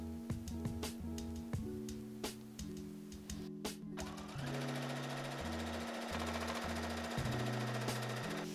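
A sewing machine hems the folded, layered slit edges of a corset-bodice prom dress, running in repeated short bursts with a steady rhythmic stitching hum, close and moderately loud, no talk.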